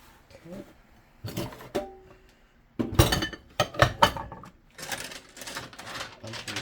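A big bowl and utensils clink and clatter in a sink while being scrubbed during dishwashing, with irregular bursts of knocking separated by quieter scrubbing moments.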